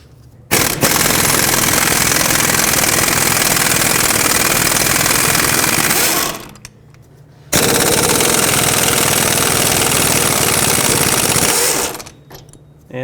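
Pneumatic impact wrench rattling loose wheel hub bolts on a 2005-2009 Chevy Equinox during a front hub and bearing job, two long loud hammering bursts separated by a short pause.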